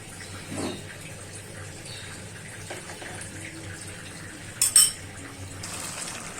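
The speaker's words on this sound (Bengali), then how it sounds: "হালকা একটু পানি দিয়ে দিলাম" A quiet kitchen, then a brief splash of a little water poured into a pot of sautéing zucchini, followed by a soft, faint trickle.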